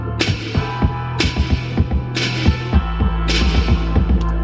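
A punchy beat with deep kicks and crisp reverb snares hitting regularly, its sound gritty and crunchy from a heavy bit crusher effect.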